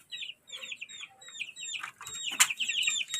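A White Kelso hen clucks repeatedly in short bursts, with higher chirps and some rustling, close by and without talk.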